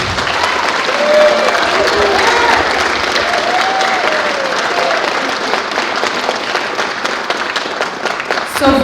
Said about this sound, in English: can you guys give these kids a round of applause?